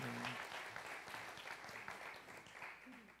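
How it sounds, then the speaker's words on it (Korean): Quiet, even applause rises from a congregation at a Sunday afternoon church service as a student receives a scholarship, steady many-handed clapping heard from some distance and fading slightly toward the end. "우리 큰 박수로 환영해 주시면 감사하겠습니다"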